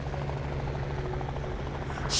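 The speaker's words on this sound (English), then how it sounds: "Military choppers!" Military helicopters in the video game Liberated drone steadily with a rhythmic rotor thump over a constant low hum, sustained and fairly loud throughout.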